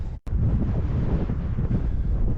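Strong winter wind at a Xinjiang campsite buffets the microphone in a continuous low roar, broken by a brief gap near the start, then blowing steadily and loudly with no talk.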